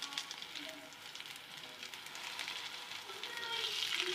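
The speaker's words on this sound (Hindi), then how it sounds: "इसको आपने शैलो फ्राई करना है" Potato kababs shallow frying in a pan, a steady broadband sizzle that swells gradually louder toward the end, with no talk over it.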